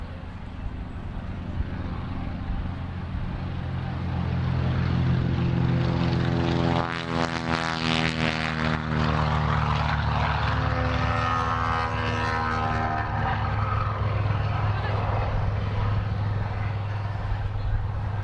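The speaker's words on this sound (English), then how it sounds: "let's listen to the Avenger take off." A Grumman Avenger, the heavy single-engined WWII torpedo plane, roars through its takeoff. The loud propeller drone swells to a peak as it passes close, and its pitch sweeps downward as the aircraft moves away.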